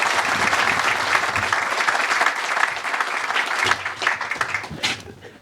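An audience at a celebration for a Long Island solar farm breaks into sustained applause, dense and loud for several seconds before tapering and thinning toward the end.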